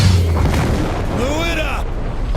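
A video game explosion from Saints Row 4 rumbles loud and low, with a rising synthetic whoosh over it, heard amid ongoing game noise.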